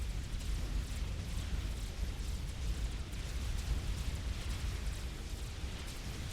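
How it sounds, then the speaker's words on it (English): Rumbling, crackling explosions fill a battle in the strategy game Supreme Commander: Forged Alliance, merging into one dense, continuous roar at steady loudness throughout. "And the explosion clears."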